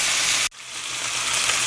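Baby back ribs browning in a hot pan: a loud, dense sizzle cuts off abruptly after half a second and is followed by a softer, steady hiss.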